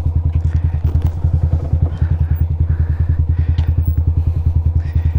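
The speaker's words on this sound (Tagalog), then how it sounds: "hagdanan siya pero oh, kasya lang ang motor" Motorcycle engine thumping at low, steady revs while riding slowly down a narrow stairway path in Batangas, a close, rhythmic putter with faint clatter throughout.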